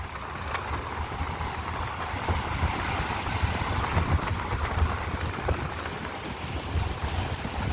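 Strong wind gusting over the sea beside a boat in a strong current, a loud, steady roar with buffeting on the microphone and a wash of waves underneath, continuous throughout with no voices.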